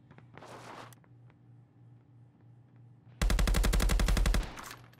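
Gunfire in the VR shooter Contractors sounds on the MW19 KillHouse map: a few faint clicks and a short burst early on, then a loud, rapid automatic burst of close shots lasting over a second.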